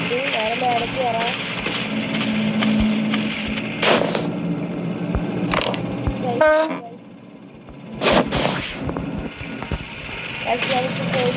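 A passenger train runs along the track with loud rumbling, sharp metallic clunks and bursts of rattling from the wagons, plus a brief horn-like tone near the middle, while people talk nearby.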